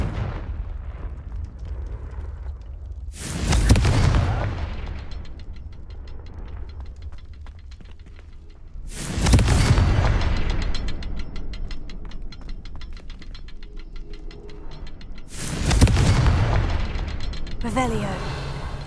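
Confringo blasting spell from Hogwarts Legacy, three loud fiery explosions spaced several seconds apart, each a sharp burst trailing into rumbling decay over a low game ambience.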